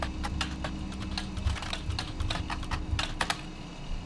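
Rapid typing on a computer keyboard, a quick irregular run of crisp key clicks with a few heavier thumps, close and clear over a soft steady background hum.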